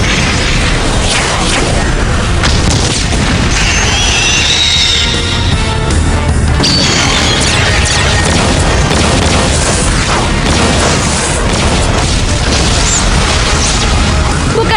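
Missile launch and explosion effects from a dubbed Ultraman Nexus episode: a loud, continuous roaring blast with booming rumble and crackling bursts, dense and close, with a faint voice briefly underneath.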